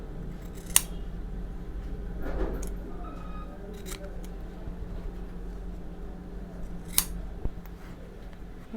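Scissors trim excess Ankara fabric with a few quiet, sparse snips close by against a faint background hush.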